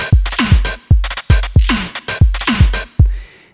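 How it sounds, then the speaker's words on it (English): A plain, generic drum loop in Bitwig thumps along with punchy kicks and bright snare and hat hits in a steady groove, loud and close, ending on a fading cymbal. "take a boring and generic drum loop that sounds like this"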